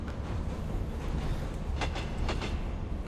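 A subway train in the video game The Last Light rumbles steadily with low, continuous rolling noise and a few faint metallic clicks from the wheels, with no voices over it.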